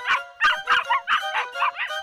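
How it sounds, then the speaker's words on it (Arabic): A puppy in a Tom and Jerry cartoon gives a rapid series of high, yappy little barks, close and loud, about eight in two seconds. "لكنك لن تخيف شيئا مع هذا النباح"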